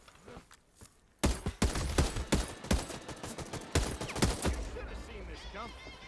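A suppressed VSS semi-automatic rifle fires in a video game, a run of sharp shots in quick succession, some spaced and some clustered, close and loud, with a voice speaking over parts of it.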